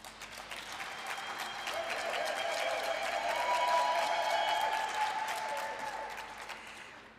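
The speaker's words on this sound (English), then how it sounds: "She deserves an applause." Audience at the Namibia International Energy Conference breaking into sustained applause, a dense wash of many hands clapping that swells, holds for several seconds and then slowly fades.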